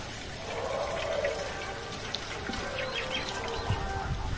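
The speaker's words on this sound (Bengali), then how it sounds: "এবার জলটাকে আমি একটা পাত্রে ঢেলে নেবো।" Green coconut water pours steadily into a bowl, a soft continuous splashing trickle with faint birdsong in the open air behind it.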